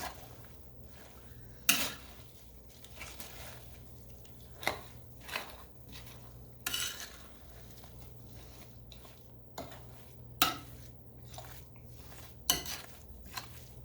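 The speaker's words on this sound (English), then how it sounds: "let's stir this up" Dressing (stuffing) stirred in a pot, heard as scattered scrapes and occasional louder clunks of a spoon against the pot over a low steady hum, close but fairly quiet.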